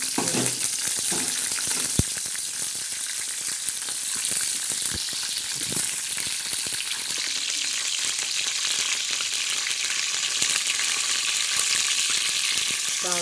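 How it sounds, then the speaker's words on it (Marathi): Curry leaves dropped into hot oil for tempering in an egg curry, a loud continuous crackling sizzle close by, with a few sharp clicks of a utensil against the pan, no voices. "हा खडीपत्ता फोडणीला टाकायचा"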